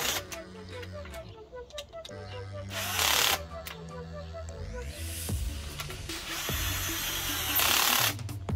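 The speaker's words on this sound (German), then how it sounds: "Ich habe mir jetzt noch einen Akkuschrauber dazu genommen, weil das einfacher und schneller geht." Cordless drill driving four screws to fasten a bicycle basket, heard as several short whirring bursts with pauses between them, close and fairly loud, over a steady background.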